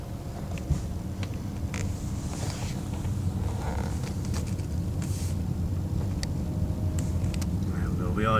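Car driving slowly on a road after its dashboard warning lights were cleared, with a steady low engine and tyre rumble and some wind buffeting on the microphone throughout, no talk.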